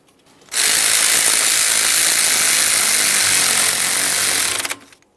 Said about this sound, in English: We're going to hold that in place with our 14mm wrench.